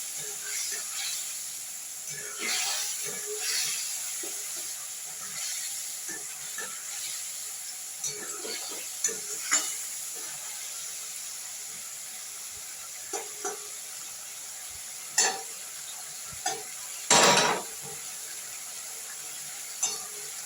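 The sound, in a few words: spice paste being stir-fried in a pan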